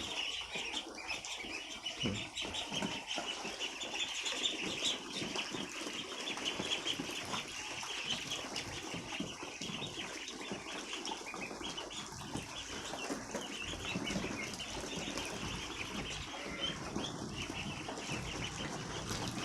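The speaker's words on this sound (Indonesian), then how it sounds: "Lihat bagaimana itik melalap makanan." Dense, continuous pecking and rustling from a crowd of about 100 ducks eating feed, steady throughout with no talking.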